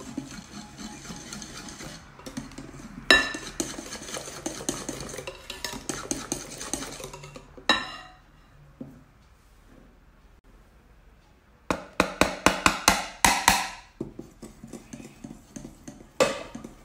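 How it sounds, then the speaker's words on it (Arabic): A utensil stirs brownie batter in a bowl as flour, cocoa and yeast are added, scraping and clinking in bursts with pauses, loud close taps at the start and near the end. "غنحركو واحد شويه وغنزيدو الخليط ديال الدقيق والكاكاو والخميره اللي غربلناه"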